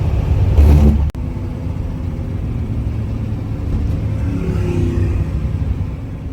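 A car with a Ford 363 stroker V8 accelerates hard on a street pass, a loud close engine roar that cuts off sharply after a second, then falls into a lower steady drone.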